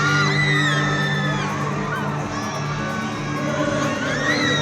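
A crowd of fans at a concert in Zamboanga City cheers and screams, shrill overlapping whoops and yells sustained throughout at close, loud level, with a performer's voice or music faintly underneath.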